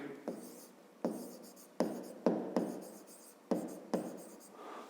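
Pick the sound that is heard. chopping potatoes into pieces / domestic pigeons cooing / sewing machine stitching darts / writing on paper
writing on paper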